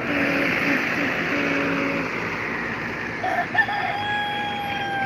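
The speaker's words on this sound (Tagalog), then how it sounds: "Yan, may nagtitilaok pa." A rooster crows in a rural Philippine rice field at harvest, its call rising clearly around the middle and trailing off, over a steady background hum of a running harvester engine.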